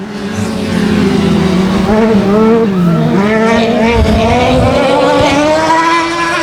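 Race cars on the final lap at a short-track speedway, loud engines roaring and shifting pitch as they pass close by, a dense continuous drone under a commentator's voice.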